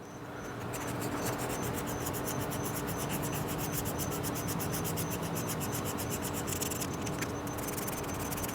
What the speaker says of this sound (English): And you want to just really focus on these edges. So you just sand it down just like this.